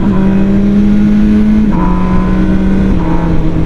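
MV Agusta Brutale 1000 motorcycle engine held at a loud, steady drone in fourth gear, its pitch stepping slightly down and then holding, close and continuous with no talk.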